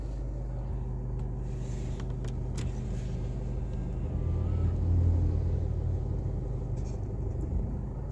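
A car reverses slowly during a driving lesson, giving a steady low engine rumble that swells slightly midway, with no talk over it.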